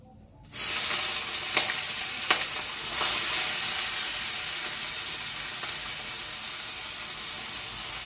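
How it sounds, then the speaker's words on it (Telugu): Onions frying in a pan for a zucchini curry, with ginger garlic paste added, give a steady close sizzle and hiss that carries through the clip, broken by a few soft stirring clicks and no talk. "దీంట్లో ఆనియన్స్ ఫ్రై అయిపోయినాయి కదా, కొంచెం జింజర్ గార్లిక్ పేస్ట్ కూడా వేసేసుకున్నాం."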